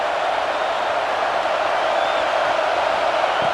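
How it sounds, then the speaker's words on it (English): Stadium crowd noise in EA Sports College Football 26, a loud, dense, continuous roar of thousands of fans that holds steady without breaks. "listen to this crowd noise. This stadium is vibrating."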